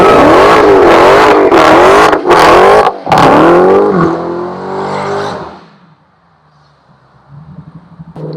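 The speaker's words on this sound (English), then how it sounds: "activate your line lock to do a good burnout, get those tires hot and sticky in the box" Dodge Challenger Demon doing a line-lock burnout: a loud, close engine revving hard in repeated surges with tire roar, then dropping away to a low idle and near quiet.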